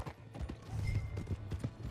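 Horse hooves clip-clop in Red Dead Redemption 2, a steady run of muffled thuds at close range, with no voices over them.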